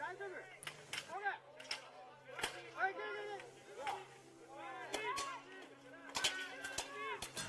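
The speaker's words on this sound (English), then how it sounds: "Miecze bardzo ładnie dźwięczą." Sharp metallic clangs of longswords striking in a one-on-one tournament bout, bright ringing hits in quick irregular bursts, some close together, with a commentator talking throughout.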